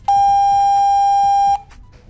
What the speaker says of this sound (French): Le clavier confirme par un bip long.